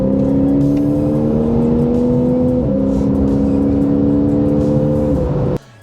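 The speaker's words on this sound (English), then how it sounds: "the exhaust sounds absolutely phenomenal" A Porsche 911 of the 991 generation sends out a loud, close, steady exhaust drone, the tone stepping up twice as revs climb through gears before cutting off abruptly at the end.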